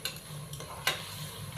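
Whole spices being stirred and fried in a pan for chicken pulao, a soft scraping stir with a steady low sizzle underneath and a couple of brief clinks of the spoon, alone without talk.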